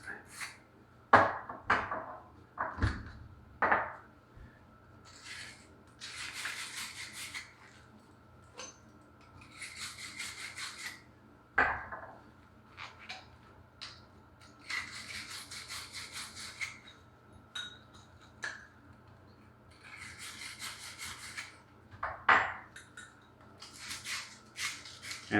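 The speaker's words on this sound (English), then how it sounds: "This scuffing up is to allow the solder something to grab onto." Copper pipe joints are scuffed inside and out before soldering for a fire sprinkler installation, giving bursts of dry, raspy rubbing strokes with short pauses and a few sharp clicks, close and fairly quiet.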